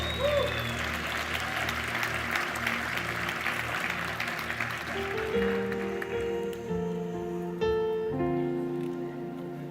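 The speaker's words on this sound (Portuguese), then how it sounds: "Vamos aplaudir eles." A church congregation applauds a newly engaged couple during a service: dense, steady crowd clapping fills the first half, then fades as sustained keyboard notes take over.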